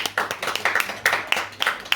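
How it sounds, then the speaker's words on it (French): A small audience at a literary afternoon event for Women's Day claps close by, with distinct, uneven individual handclaps in a fairly sparse, lively burst rather than a dense roar. "je vous permets d'applaudir Eva Marin qui est avec nous,"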